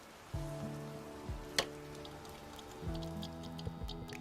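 Steady rain pours down in a continuous hiss, with soft tonal hums drifting underneath and a brief sharp spatter partway through.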